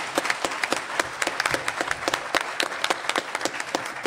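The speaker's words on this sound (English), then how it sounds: "Give yourselves a round of applause." A town hall crowd in Little Falls, Passaic County applauds, with distinct individual claps standing out sharply over a softer, continuous patter of many hands at moderate volume.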